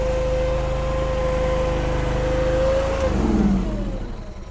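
Mini skid steer engine revving loudly and close, holding a steady pitch, then dropping in tone as the throttle eases off and the sound fades slightly at the end.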